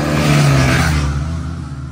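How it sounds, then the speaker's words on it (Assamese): Motorbikes passing on a foggy road on New Year's Day, a close engine drone that swells and then fades as the vehicles go by, heard alone without talk. "বহুতকেইখন বাইক আহিছে"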